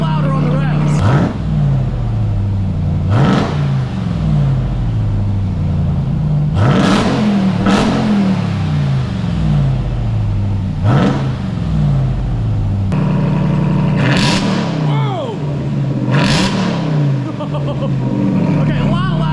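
A Ram TRX pickup fitted with a new Corsa exhaust revs again and again, each loud, sharp blip rising and falling back to a deep idle, with someone talking excitedly between the revs.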